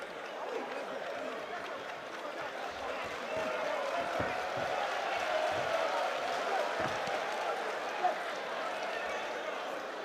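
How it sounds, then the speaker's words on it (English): A boxing crowd at a fight night at the Bukom Boxing Arena claps and cheers steadily, a broad wash of applause and voices that swells midway, heard beneath a commentator's voice. "Lots of clapping in the background and of course cheering them on as well."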